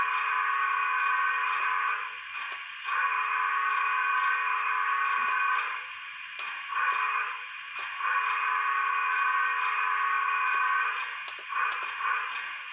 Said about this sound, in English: let's go and hear the whistle